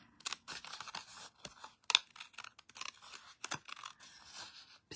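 Small scissors snip through paper stickers along printed lines, a quick irregular run of crisp close-up cuts and clicks with short pauses between strokes.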